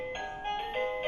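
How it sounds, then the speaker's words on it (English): Doorbell chiming in a house, a short run of bright tonal dings stepping between pitches, moderately loud with no talk over it. "I think that's the doorbell. That's the doorbell."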